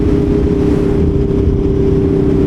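Aprilia Tuono V4 1100 Factory motorcycle engine while riding, a loud continuous steady hum with a strong constant tone and wind buffeting, close and unbroken.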